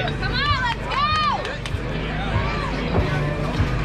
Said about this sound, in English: Good cheering section there.